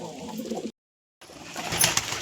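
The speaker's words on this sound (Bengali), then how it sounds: "এই হচ্ছে পায়রাগুলো, ঠিক আছে?" Pigeons kept at a home loft coo in low, murmuring bursts, broken by a short silent gap before the flock noise returns and grows busier and slightly louder.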